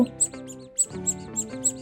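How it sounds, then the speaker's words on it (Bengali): High, thin chirps come in short repeated bursts over a soft tonal background, close by and fairly clear, like duckling chicks peeping. "বাচ্চাগুলো বের হয়ে এত কিচিরমিচির আওয়াজ করেছিল"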